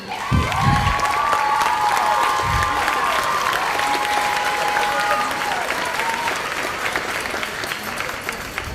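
An audience applauds young orchestra musicians at a school spring instrumental concert with loud, sustained clapping that runs unbroken for nearly nine seconds, mixed with a few cheers and bright whistle-like tones.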